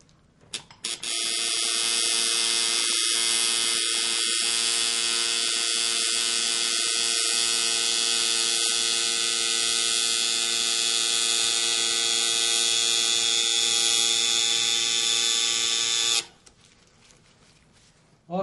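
Tattoo machine buzzing continuously while lining, a steady close electric hum that runs for most of the stretch and then cuts off, with no talking over it.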